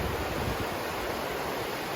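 Steady, broad rushing water noise of river rapids along a canal towpath, continuous and unbroken, with no voices.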